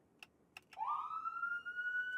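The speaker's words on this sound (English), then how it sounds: "it's also got its 3 different siren tones" A Palo Alto police electric patrol car siren starts with a few short clicks, then a single tone sweeps upward and holds steady, clean and fairly faint.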